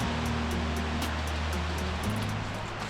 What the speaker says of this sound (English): I think we are at the top of the waterfall.